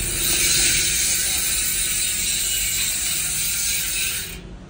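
Loud, rapid ratcheting clicks from a Paps Pro bicycle hub freewheel buzz steadily for several seconds, then cut off abruptly.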